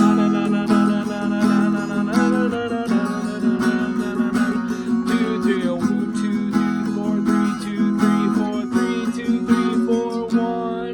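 Strummed guitar chords play a full, steady chorus passage, bright and continuous with regular rhythmic strokes.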